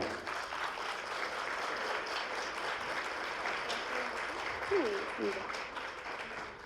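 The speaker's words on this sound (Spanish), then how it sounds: "Un aplauso, por favor, para Sofía." Audience applause for a panelist being introduced at a technology panel event, steady crowd clapping sustained throughout at moderate level, with a brief voice-like sound near the end.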